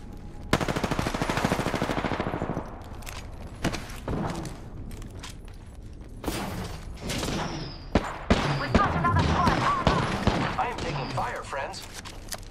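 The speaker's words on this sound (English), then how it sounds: "The enemies are shooting at me." Enemy gunfire erupts in a battle-royale shooter near Capitol City, with rapid machine-gun bursts and scattered single shots. Quieter gaps and mechanical clicks fall between the bursts.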